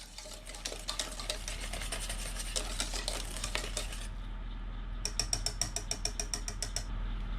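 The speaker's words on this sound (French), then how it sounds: "je prépare bien mon bol en incorporant bien la première spatule de blanc à ma préparation au chocolat" A spatula scrapes and clicks rhythmically against a bowl while egg whites are folded into gluten-free chocolate fondant batter, close and steady, with a short pause partway through before the tapping resumes.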